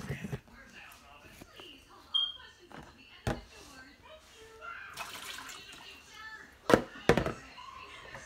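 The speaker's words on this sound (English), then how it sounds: "Then now, I'm going to empty out the water." Water is tipped out of a bowl while a pet bearded dragon's tank is being cleaned. Soft splashes and pouring come with a few knocks and clunks, quiet and close, while a person talks.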